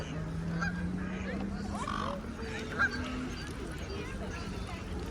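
Geese or swans honk along the riverside at Windsor, a few scattered calls over steady outdoor background hum, with one louder honk standing out and faint voices nearby.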